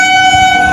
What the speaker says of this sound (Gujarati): ફાઇનલી ટ્રેન આવી ગઈ આપણી।